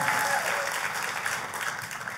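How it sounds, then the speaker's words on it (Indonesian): A church congregation claps together, dense steady applause close by that holds for a couple of seconds and tapers slightly at the end. "Kita kasih tepuk tangannya, pula yang paling meriah buat Tuhan kita."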